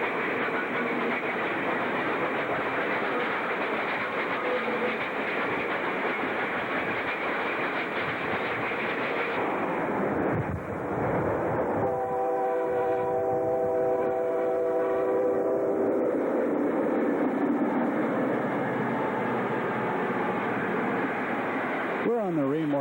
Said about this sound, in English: as train number 308 passes by with engines 1808 and 1807 on their way back to Englehart, Ontario